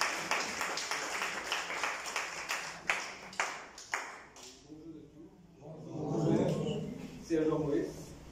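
An audience at a road-safety workshop in Mauritius breaks into a round of rapid clapping, which fades out after a few seconds before voices take over.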